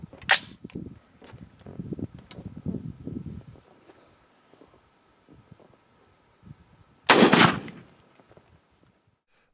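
Two loud rifle shots from XM855 green tip rounds ring out outdoors in wind, one sharp blast near the start with rumbling echo and another about seven seconds later, separated by a quiet gap.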